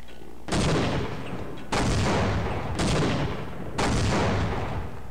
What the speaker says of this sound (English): I see one on my left, so I'm going to use grenades against him.